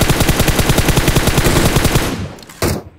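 Automatic gunfire from PUBG Mobile rattles in a fast, even burst of shots for about two seconds, loud and close, then after a short gap one more sharp shot rings out.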